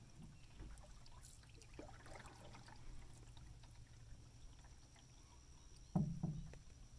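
A canoe paddle dips and pulls through water during a rainy camping trip, giving faint, soft splashes and trickles over a quiet background, with a louder splash near the end.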